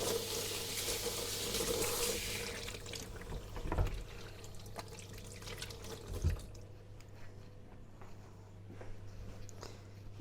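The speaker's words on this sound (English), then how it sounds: "So now I'm going to wash my hands for a second." A kitchen tap runs while hands are washed, a faint steady stream with a few splashes and drips that cuts off partway, leaving quiet room tone.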